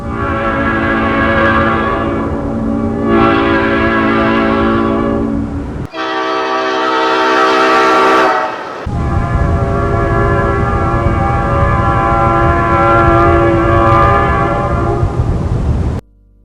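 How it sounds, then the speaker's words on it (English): Nathan P01235 air horn on an Amtrak GE E60 electric locomotive blows three long, loud chorded blasts, the second shorter with a clear gap, rich and harmonic without any voices. "The E60 was equipped with a unique Nathan P01235 air horn at the suggestion of Don Teed."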